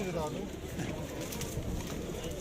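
Jumbo pigeons coo softly at a busy outdoor bird market, their low calls nearly lost under steady crowd noise and people talking close by.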